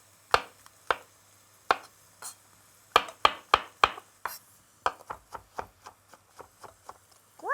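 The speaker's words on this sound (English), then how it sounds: "we're just going to roughly chop these into small pieces" A knife roughly chops button mushrooms on a board in sharp, close, uneven strikes, some spaced apart and others in quick bursts, with no one talking.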